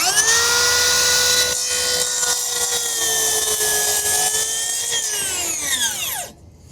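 A Makita 10-1/4 inch cordless circular saw cuts through wood with a loud, close, steady high whine for about six seconds, then the electric brake stops the blade with a quick descending wind-down.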